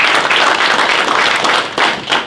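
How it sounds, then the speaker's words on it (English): Applause and clapping from a press conference crowd for MMA fighter David Valenti at the 2019 PFL Championship, a dense, steady roar of many hands filling the room without pause. "A round of applause for Valenti."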